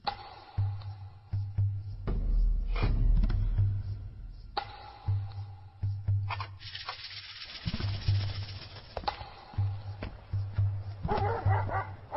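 A dog barks repeatedly in a Tajik-dubbed drama scene, with several sharp barks and yelps in uneven bursts over a low, steady background rumble.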